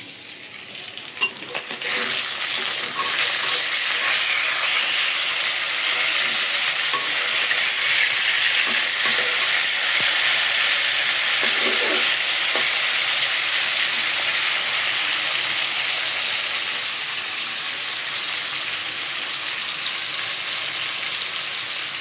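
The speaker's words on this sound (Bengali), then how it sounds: "এদিকে আমি আরেকটা কড়াই বসাই দিলাম মুরগির চামড়া ভাজি করার জন্য" Chicken skin frying in a kadai: a loud, close, continuous sizzling hiss with faint crackles, holding steady for about twenty seconds with no talking.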